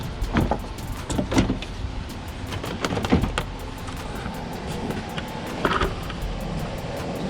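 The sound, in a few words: BMW 328i bumper being pulled off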